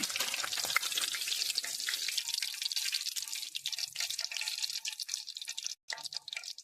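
Chicken kabiraji crackles and sizzles steadily in hot oil, a close, even hiss that thins slightly toward the end, with no talking.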